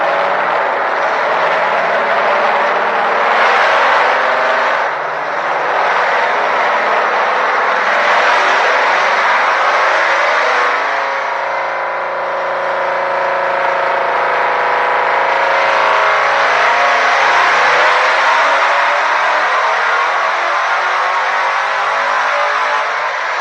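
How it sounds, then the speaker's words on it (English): Turbocharged truck engine running hard on a dyno, a loud continuous roar that holds steady throughout with shifting harmonic tones as engine speed rises and falls mid-run. "I'll show you guys some dyno running."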